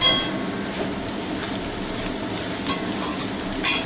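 Chopped ginger being stir-fried in a pan for chilli chicken: continuous sizzling with scraping stirs and a few light clinks of utensil on metal, close and clear, no voices.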